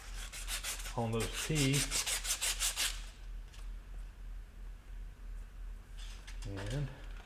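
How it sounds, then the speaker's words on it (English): Emery cloth rubbed over burred spline teeth on a custom axle freshly cut on a horizontal milling machine, heard as several quick rhythmic scraping strokes in two bursts, close and fairly loud, with someone speaking between them. "I'm going to go around it with a little emery cloth here just to make sure I don't have any burrs"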